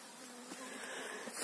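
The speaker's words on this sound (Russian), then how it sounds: "Пчелы работают хорошо, и обножку несут, и груженые, все хорошо." Honey bees buzz around hives, a steady close hum of many insects in flight, with individual bees droning past, fairly faint and with no talking.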